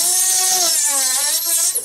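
Rotary burr drilling through a crown-style ring setting, a steady high-pitched whine with a wavering tone that holds for about two seconds before dropping away near the end.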